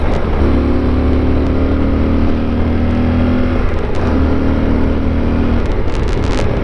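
Yamaha Super Tenere motorcycle engine under way on gravel and twisty back roads, a steady loud drone with a sustained low hum that briefly dips near the middle and then resumes, along with wind rush.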